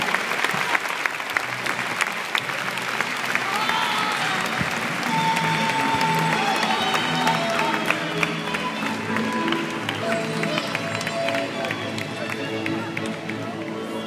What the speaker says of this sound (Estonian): Aga aplaus tüdrukud